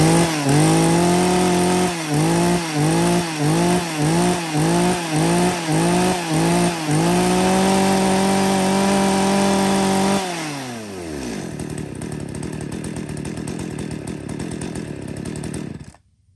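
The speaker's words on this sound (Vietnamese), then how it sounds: "chúng em xin phép giật test nổ con này cho các bác ngọc và tiếng máy." A used 37cc chainsaw is pull-started and revved hard in repeated bursts for about ten seconds, its loud engine pulsing rhythmically. It then winds down to a rough idle before cutting off.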